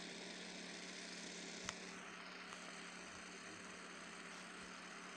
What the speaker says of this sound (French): Par contre vous entendrez toujours un moteur